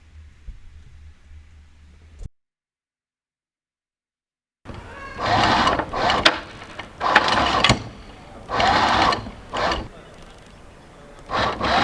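A sewing machine stitches coloured fabric tags for a boat's anchor chain, running close in several short, loud bursts that start and stop, after a low hum and a moment of silence.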